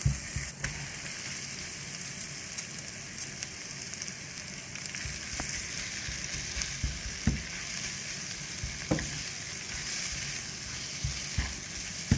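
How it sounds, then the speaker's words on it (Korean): Minced garlic stir-frying quickly in sesame oil in a still-hot pan for seasoned dried pumpkin namul, a soft steady sizzle with scattered light clicks and stirring taps, no voices. "참기름에 마늘을, 간마늘을 좀 볶아주시고, 열기가 있어서 남아있어서 빨리 볶아줍니다."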